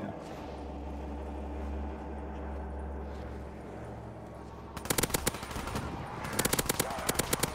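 Rapid bursts of automatic gunfire in Black Ops 3 custom zombies break out suddenly partway through, loud and close, after a steady low game hum.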